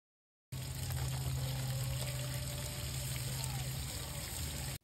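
Water runs steadily from a tap or hose over bonsai tree roots during repotting, a continuous close splashing stream that starts abruptly and stops after about four seconds.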